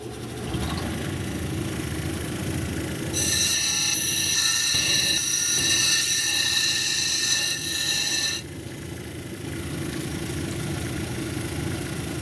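An 80-grit lapidary grinding wheel shapes a green aventurine cabochon, giving a steady motorized hum with a bright, harsh grinding whine for about five seconds mid-clip before easing back to the running motor.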